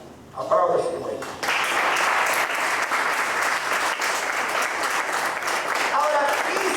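A church congregation breaks into applause during a sermon, the dense clapping swelling in after a short spoken moment and holding steady and fairly loud to the end, with a voice briefly heard near the close.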